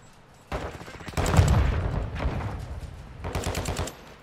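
Several bursts of LMG fire in Call of Duty Modern Warfare II, rapid rattling volleys close by, separated by short pauses over a few seconds.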